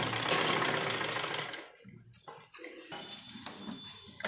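A sewing machine runs loud and steady, stitching the sleeves of an umbrella-style kurti, then stops and leaves only faint handling noises.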